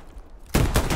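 Gunfire in a World War II tank game, with a burst of shots starting midway, loud and close, after a quieter rumbling stretch.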